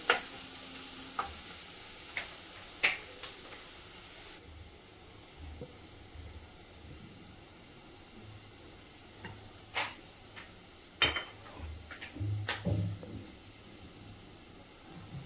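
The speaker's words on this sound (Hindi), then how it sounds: "पियाव साम गोल्डन फ्राय जावपा जाय" Onions fry golden in a pan for chicken sukha keema with a soft sizzle underneath, while a spoon stirs and scrapes against the pan in scattered sharp clicks, close and fairly quiet.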